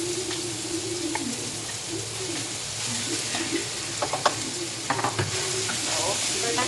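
Adobo fried rice sizzles steadily in a pan while a utensil stirs and scrapes it in irregular strokes, with a few sharper clinks near the end; no one speaks.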